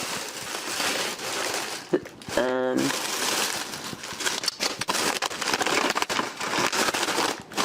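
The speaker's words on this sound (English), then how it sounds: "Sorry for the rustling noise." Crinkly plastic Werther's cinnamon cream caramel candy wrappers rustling close to the microphone, with a soft voice speaking over the crackling.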